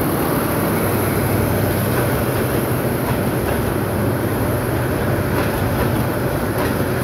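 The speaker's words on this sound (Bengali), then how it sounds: "ট্রেনটি ভৈরব বাজার জংশনের 2 নম্বর প্ল্যাটফর্মে এসে প্রবেশ করেছে।" The Bijoy Express intercity train rolls into platform 2 at Bhairab Bazar junction with many passengers riding on the roof, a steady loud rumble and wheel noise filling the whole stretch without letup.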